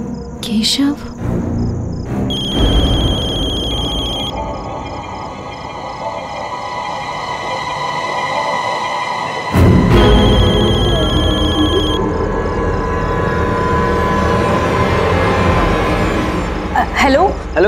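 A telephone rings with a bright, repeating electronic bell tone that starts and stops in bursts, set against background music and other sound effects in a dramatic scene, with people speaking nearby.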